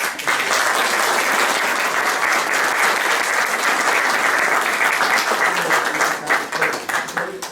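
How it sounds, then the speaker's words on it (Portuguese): An audience at a book presentation at Estoi Palace gives a big round of applause, dense steady clapping that stays loud throughout and thins out near the end. "peço para si, uma grande salva de palmas"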